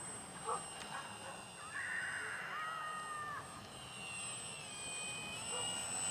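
An Ares Alara RC airplane flies at very low throttle, its thin electric whine faint and distant, drifting up and down in pitch as it passes, with a dog barking briefly in the background.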